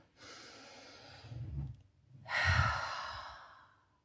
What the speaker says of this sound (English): Let's all take an inhale.